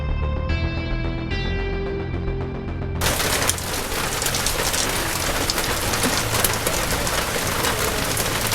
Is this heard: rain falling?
yes